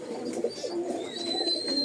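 Pigeons coo softly nearby, low rounded calls over a steady background hum, with a faint high whistle-like tone running beneath.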